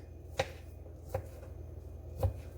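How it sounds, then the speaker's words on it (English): A knife chops through vegan sausages on a cutting board in a home kitchen, three sharp, distinct chops spaced about a second apart, close and clear against a quiet background hum. "And then I chop them."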